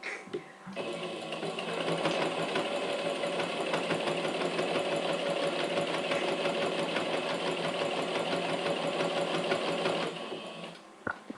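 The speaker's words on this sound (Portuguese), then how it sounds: "Então vamos lá passar uma segunda costura aqui." A sewing machine runs steadily for about nine seconds while stitching a second seam on a fabric pouch, giving a fast, even mechanical whir and rattle that starts and stops cleanly.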